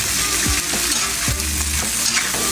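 Food fries loudly in a pan, a dense, close sizzle that stays steady throughout. A few low scraping and knocking strokes mark the stirring. No voices are heard.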